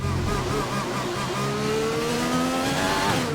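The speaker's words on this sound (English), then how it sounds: "You can barely put any sort of throttle input down." Jordan Renault Formula 1 car in the F1 2020 racing game on a wet track, its engine revving in continuous rising and falling whines with tire squeal, loud and steady throughout.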